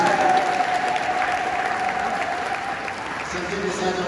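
Congregants at a combined church unity mass at a KKKT church in Dar es Salaam give the committee a loud, sustained round of applause, with a voice over the PA and a faint whistling tone.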